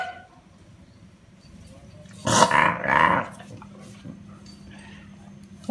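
A Thai Ridgeback dog lets out a short, close growl of about a second and a half in an otherwise quiet room, with faint background noise before and after.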